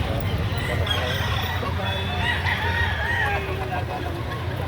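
Roosters and other chickens at a busy poultry market in Lipa, Batangas, crowing and clucking repeatedly amid steady crowd babble and nearby talk.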